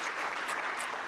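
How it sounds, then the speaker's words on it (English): Brief burst of audience applause for a tournament volunteer at an awards ceremony in Plymouth, Indiana, steady and moderately loud throughout. "so give it a round of applause for Jake"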